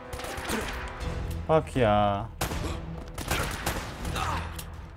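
Gunfire in the video game Uncharted: Drake's Fortune, bursts of shots mixed with game effects and music while someone talks over it.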